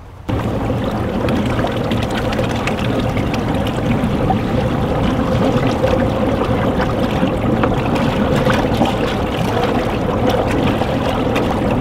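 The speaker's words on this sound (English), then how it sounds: "I'm actually gonna turn the aerator on and get this bubbling." Compost tea brewer aerator bubbling water for liquid organic fertilizer, a steady close churning and gurgling wash that runs continuously at an even loudness.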